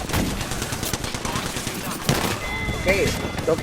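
Rapid gunfire in a first-person shooter video game rattles in quick bursts throughout, with a player talking over the shots.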